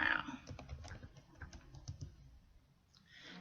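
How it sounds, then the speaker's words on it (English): Keys tapped on a computer keyboard while entering words into a search box, a loose run of soft clicks over a low background hum, with no talking. "in the search box, we're going to type wall and floor"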